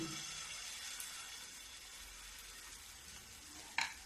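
Wheat flour pua batter fries in hot oil, giving a faint, steady bubbling sizzle throughout and a brief clatter near the end, with no voices.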